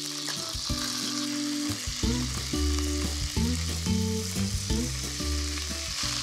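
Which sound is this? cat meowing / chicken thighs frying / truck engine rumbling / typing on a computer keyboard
chicken thighs frying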